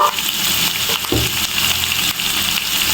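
Ground spices such as dried chili, cumin and coriander powder frying in hot oil for mustard hilsa curry, a steady close sizzle with a few stirring scrapes of a spatula, no talk.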